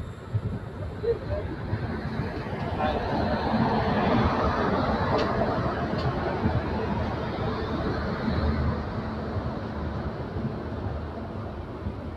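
A passenger train pulls into Kurduwadi Junction on a busy platform, a steady rumbling roar of wheels and rail noise with station crowd chatter and voices running throughout.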